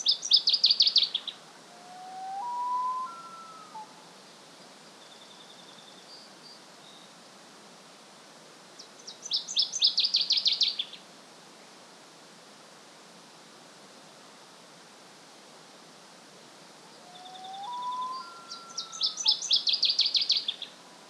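Outdoor bird song recorded in the open: bright bursts of trilled chirping repeat every several seconds, with softer whistled notes between, over a steady rushing backdrop.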